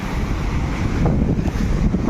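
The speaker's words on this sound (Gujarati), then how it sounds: "મોજા આવે છે" Rough sea waves wash against the shore near Somnath in the morning, a continuous low surging roar heavily mixed with wind buffeting the microphone, with no voices.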